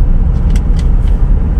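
A car on a road trip in Sucat, Parañaque, its engine and road noise a loud, steady low rumble from inside the cabin, with no gaps.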